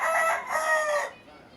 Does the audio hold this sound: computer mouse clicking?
no